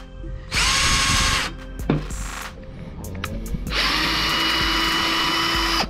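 A power drill bores a hole through the tough fiberglass hull of a kayak in two loud, sustained whining bursts separated by brief clicks and handling noises, close by with no talk.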